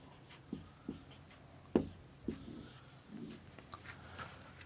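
Writing on a board during a biology lecture gives a few separate scratchy strokes and taps, moderately close, over a quiet room background with no talk.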